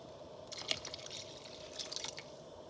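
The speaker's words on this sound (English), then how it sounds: "to add the remaining water, which is a cup of water" A cup of water splashes and trickles into a pot of chicken enchilada soup in two short, quiet bursts, with a faint steady hum underneath.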